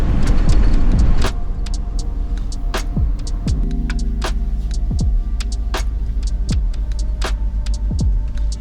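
Car driving along a motorway, a steady low engine and road rumble with a throbbing hum, louder at the start and then settling into a constant drone, with faint intermittent clicks and ticks over it.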